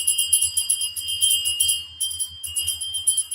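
Bell sound effect with rapid, repeated high metallic jingling strikes in a steady rhythm, faint low thumps underneath, short gaps between runs, no voices.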